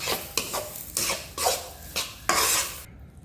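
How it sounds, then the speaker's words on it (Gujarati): A spoon stirs grated coconut as it roasts in a pan for besan modak, with repeated scraping and light sizzling strokes in an uneven rhythm, close and moderately quiet. "એ હવે આમાં આપણે નાખી દઈશું અને 1 સેકન્ડ માટે શેકી લઈશું"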